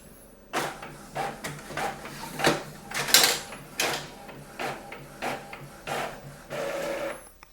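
An Epson WF-2930 printer making a copy, its mechanism whirring and clunking in a rapid series of rhythmic shuttling pulses, close and moderately loud, with no talk over it.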